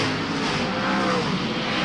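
Speedway race cars roar around the dirt oval at Wagga Wagga, a steady, dense wall of engine noise from several cars bunched together in traffic, loud and continuous with no talk.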